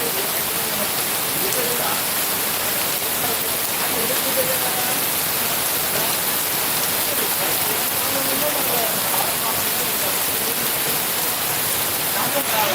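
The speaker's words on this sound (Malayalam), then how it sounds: "ഇന്ന് വെളുപ്പിലാണ് ഈ മഴ തുടങ്ങിയത്" Heavy rain in Hyderabad pours steadily and loudly, a dense unbroken hiss of drops hitting surfaces throughout, with faint sounds of activity beneath it.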